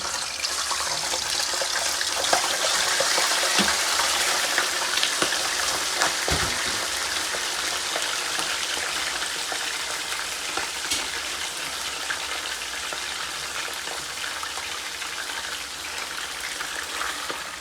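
Chicken pieces going into hot oil for biryani set off a loud, dense, continuous sizzle that crackles steadily throughout, with a couple of sharp pops early on.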